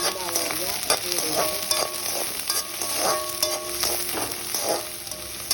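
Onions frying in oil in a pan for a chickpea sundal breakfast, a loud, constant sizzle with a spoon stirring and scraping at intervals, close by.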